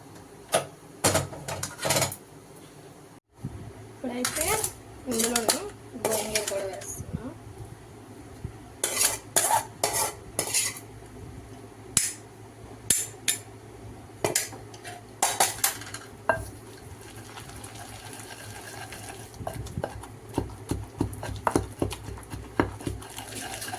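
Gongura leaves are pounded and ground in a stone mortar, giving irregular bursts of hard knocking and scraping strokes with short pauses between, near and fairly loud.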